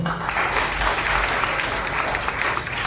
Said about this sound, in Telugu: మరలా బిగ్గరగా చప్పట్లు కొట్టండి